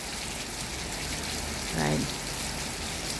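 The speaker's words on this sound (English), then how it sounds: "hear the sound of rain" Steady rain falls outside a house in California, a constant even hiss of drops filling the whole stretch, with a short spoken word partway through.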